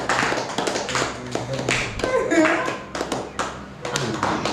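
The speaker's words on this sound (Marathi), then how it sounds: "टाळ्या वाजवा सगळे, टाळ्या वाजवा" A gathering of people clapping their hands together, loud and fairly rhythmic, mixed with voices talking and someone speaking.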